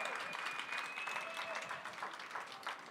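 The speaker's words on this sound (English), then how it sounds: "I'd love if you could give them a round of applause." An audience applauds runners being introduced at a pre-race show, producing a brief, fairly faint and even wash of clapping with a little crowd noise.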